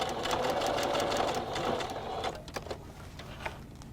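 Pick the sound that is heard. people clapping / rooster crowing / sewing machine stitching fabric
sewing machine stitching fabric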